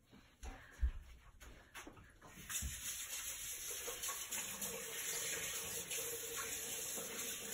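Water runs from a kitchen tap as sticky hands are rinsed, starting with a few splashes and thuds, then settling into a steady, fairly close gushing stream that continues to the end.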